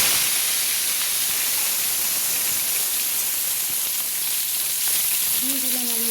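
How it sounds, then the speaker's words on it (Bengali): Potatoes frying in hot oil in a wok give a steady, loud broadband sizzle and hiss that stays even throughout, with a brief faint tonal sound near the end. "তো আমি আলুটাকে ভেজে নিচ্ছি"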